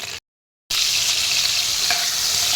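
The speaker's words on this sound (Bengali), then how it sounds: "আদা আর কাঁচা লঙ্কা একসাথে আমি দিয়ে দিলাম। অল্প কাঁচা লঙ্কা দিয়েছি, যেহেতু এটা খুব একটা ঝাল হবে না। এটা একটু ফ্রাই হবে" Ginger and green chilli frying in a pan for a vegetarian potato curry, a steady close hiss and sizzle after a brief silent break, with no talking.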